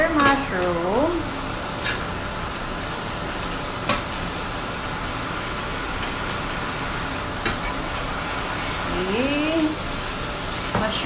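Oyster mushrooms stirred in a pan for vegan dinuguan, a steady sizzle with intermittent scraping and clinking of a utensil, and brief bits of a voice at the start and end.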